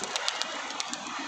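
A few soft pigeon calls sound faintly in brief, spaced bursts over a steady background hiss outdoors.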